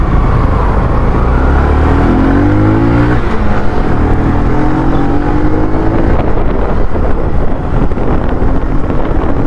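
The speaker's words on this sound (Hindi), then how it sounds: "तो एक बार बाइक को थोड़ा भगा के देखते हैं।" A Bajaj CT 110X motorcycle speeds up through city traffic, its engine rising in pitch beneath heavy, steady wind buffeting on the microphone for the whole stretch.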